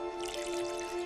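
Water runs steadily through a sieve of tomato seeds being rinsed clean of flesh, a soft continuous trickle and patter over a faint steady hum, with no talking.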